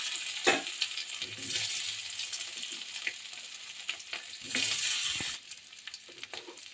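Boiled potatoes frying in oil with five-spice, dried red chilli and bay leaf in a pan, a close hissing sizzle that swells and fades as the potatoes are stirred, with a few utensil knocks before the sizzle drops away.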